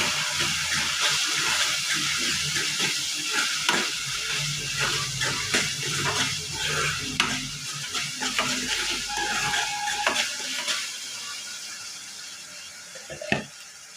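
Turmeric and other ingredients stirred together in a pan while cooking a flat bean and tomato curry, with scraping, clinking spoon strokes over a steady sizzle, close and fairly loud throughout.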